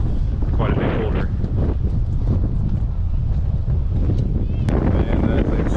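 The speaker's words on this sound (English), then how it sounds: "Just really windy." Strong wind gusting outdoors in Quebec City, a loud continuous low roar buffeting the microphone, with faint voices and other sounds barely showing through.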